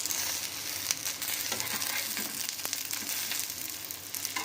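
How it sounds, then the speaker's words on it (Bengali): Fish roe paturi wrapped in pumpkin leaves fries in a pan that was briefly covered, giving a soft, continuous sizzle and crackle throughout, heard alone at low volume. "ঢাকা দিয়ে রেখেছিলাম, ঢাকা দিয়ে আর একটু ভাজা করে নিচ্ছি"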